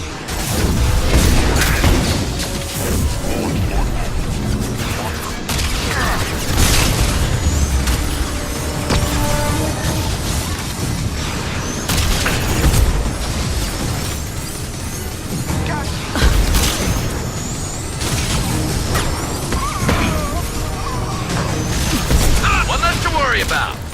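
Heavy weapon fire in Mass Effect 2, loud booming blasts and crashing impacts repeating through a dense, noisy battle mix, with a voice speaking over the action.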